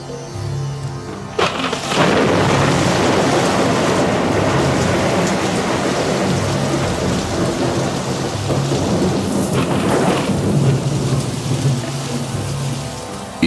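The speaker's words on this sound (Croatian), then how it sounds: "Iz nepreglednog koridora oblaka počela je kiša, koja je padala veoma dugo" Heavy rain pours steadily on surfaces while rolling thunder rumbles loudly near the start and again around the middle, the downpour continuous and close throughout.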